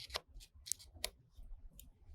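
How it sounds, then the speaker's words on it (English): Scissors snipping tangled embroidery thread at a sewing machine, several quick crisp snips spaced irregularly, close and quiet. "I'm going to use my scissors and cut the mess off"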